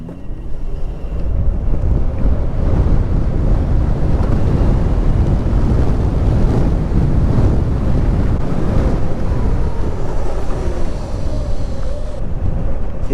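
An electric Yamaha XMAX 125 scooter accelerates with a steady electric whir and drivetrain hum, buried under heavy, continuous wind buffeting on the microphone from start to finish.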